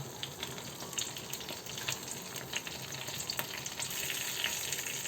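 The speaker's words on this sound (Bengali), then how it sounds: "এটা হচ্ছে আস্ত জিরা এবং তেজপাতা একটু আমি ফোড়ন দিয়ে নেব" Whole cumin seeds and bay leaf temper in hot oil, a faint steady crackling sizzle with scattered small pops and ticks that swells slightly toward the end.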